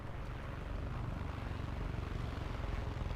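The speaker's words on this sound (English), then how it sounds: "helicopter that just hovers over" Helicopter hovering overhead in the video game Far Cry Arcade, a steady loud rotor drone with dense low-end throbbing that continues without a break.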